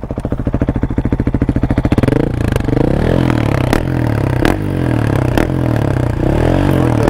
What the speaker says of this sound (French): Mets un petit coup de gaz vite fait